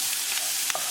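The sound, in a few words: stirring corn masala in a pan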